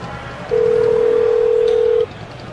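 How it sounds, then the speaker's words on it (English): A telephone gives a single loud, steady electronic tone lasting about a second and a half, clear and close over quiet room noise. "that's the phone. Humble, get the phone"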